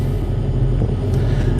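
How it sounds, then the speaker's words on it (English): Loud truck engine droning low and steady in a truck cab, a constant deep rumble with no voices over it. "Man, that truck is loud."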